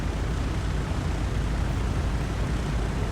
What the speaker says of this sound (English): And now I can just properly taxi to the runway